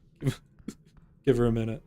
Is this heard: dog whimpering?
yes